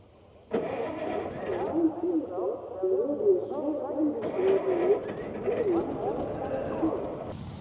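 A restored Sd.Kfz. 250/7 halftrack engine starts with a sudden burst and then keeps running at a rough, uneven idle, with people talking over it throughout.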